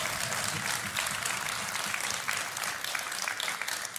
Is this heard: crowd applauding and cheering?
yes